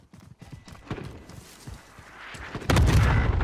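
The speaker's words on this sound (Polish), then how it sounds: "Cluster strike, spierdalamy." A cluster strike airstrike in Call of Duty Warzone lands as a series of rapid thudding impacts that build into a loud, sustained rumbling blast near the end.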